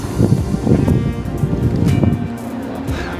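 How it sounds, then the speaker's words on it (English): Strong wind buffets an outdoor location shoot, a steady, loud roar with gusty rumbling across the whole stretch and no talking. "So the wind is blowing like crazy"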